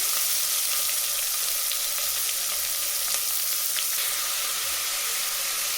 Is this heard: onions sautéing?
yes